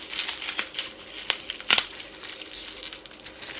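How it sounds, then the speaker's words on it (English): Close, continuous crinkling of thin plastic wrap, with irregular sharp crackles and a louder rustle midway as an item is pulled free. "let me take it out the wrapper."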